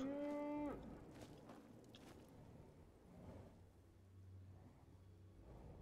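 A cow in the video game Skyrim gives one low, drawn-out moo at the start, followed by quiet game ambience with faint rumbling.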